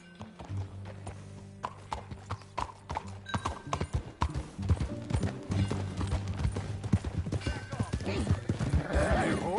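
Horse hooves clip-clop in a quickening rhythm, close by, with a horse whinnying and people speaking over them, in the video game Red Dead Redemption.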